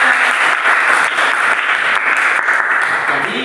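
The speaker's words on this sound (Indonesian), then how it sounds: "Kasih tepuk tangan dulu untuk semangat." A classroom of students claps together in a brisk, dense burst of applause that keeps an even level for a few seconds before easing slightly at the end.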